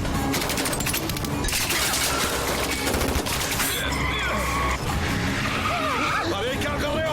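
Rapid bursts of gunfire crackle amid screeching tires and roaring car engines during a car chase in a Hindi-dubbed film, with voices shouting over the chaotic, loud action.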